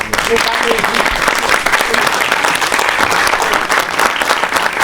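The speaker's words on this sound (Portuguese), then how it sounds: "que eu queria que ficasse de pé e que vocês saudassem eles com uma salva de palmas" Sustained applause from an audience at a debate event following a theatre show about 1968, a dense steady roar of clapping throughout, with faint voices mixed in.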